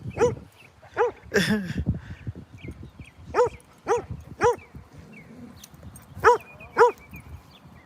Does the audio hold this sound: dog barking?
yes